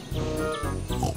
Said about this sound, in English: Oh no! Some pigs have wandered off from the farm.